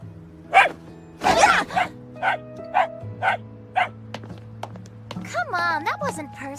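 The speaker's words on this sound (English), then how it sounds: "Oh, it's a puppy!" A puppy in an anime scene gives a series of short, high yips and barks at irregular intervals, fairly close and clear, with voices talking between and over the barks.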